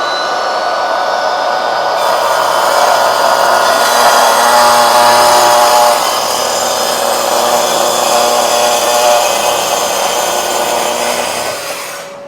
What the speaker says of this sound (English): For the first cut test, we're going to use the TS 60 KEB.